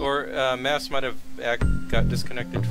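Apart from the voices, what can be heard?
None of the usual background noises is heard.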